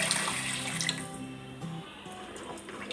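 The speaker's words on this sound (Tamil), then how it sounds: "கூடவே குழம்புக்கு தேவையான அளவு தண்ணி சேர்த்துக்கோங்க" Water is poured into a pot of okra tamarind curry, a steady splashing gush that fades slightly toward the end, with faint music in the background.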